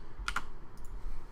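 Two quick, close keystrokes on a Corsair K70 keyboard with Cherry MX Speed switches, followed by a couple of fainter taps, with no talk.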